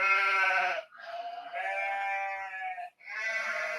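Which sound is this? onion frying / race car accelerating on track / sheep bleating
sheep bleating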